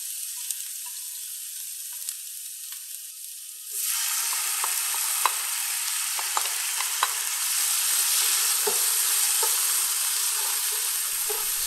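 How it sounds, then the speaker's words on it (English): Sliced onion and chopped kimchi hit hot cooking oil in a pan, setting off a sudden loud, steady sizzle that carries on with scattered clinks and scrapes of stirring, close and continuous. "Keep adding about 1 tablespoon of cooking oil, slice the onion and chopped kimchi to the pan."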